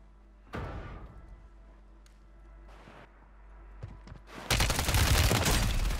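Gunfire in Warzone 3 is heard as a short close shot, then scattered quieter shots, and ends in a long, loud sustained volley. No one speaks.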